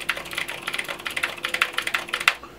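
Fast, steady typing on a mechanical keyboard with blue switches, a close run of crisp clicky keystrokes with no talking.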